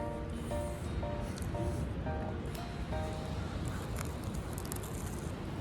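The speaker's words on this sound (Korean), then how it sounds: "파도가 잔잔하네요" Calm sea waves near a traditional market at Haeundae, a soft, continuous wash of surf close by, mixed with faint rustling and brief tonal chimes in the background.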